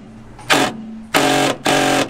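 Three loud bursts of a pneumatic impact gun hammering at a stuck Torx bolt on an Infiniti G35 Coupe trunk, each roughly a third to half second long, with short pauses and a steady hum between.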